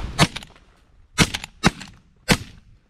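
Shotgun fired at ducks on an outdoor duck hunt: four sharp, loud blasts in quick succession, each with a short crack and brief tail, with no talking over them.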